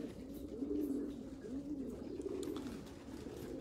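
Racing pigeons coo in a loft, a steady layered murmur of low, soft calls rising and falling continuously with no voices over them.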